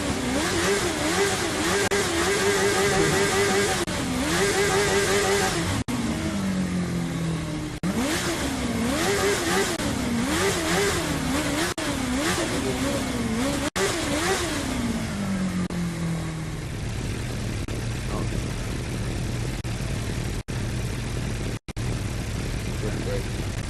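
A Kawasaki Ninja H2 motorcycle in the racing game The Crew 2 revs repeatedly, its engine pitch swooping up and down in quick bursts before settling into a steady idle, with voices talking over it throughout.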